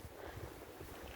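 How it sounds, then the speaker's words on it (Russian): Stormy wind rushes through a forest in a steady, muffled roar with gusts buffeting close to the microphone, low and rumbling and fairly faint overall, with no voices heard. "мы сегодня гуляем в лесу, у нас штормовой ветер"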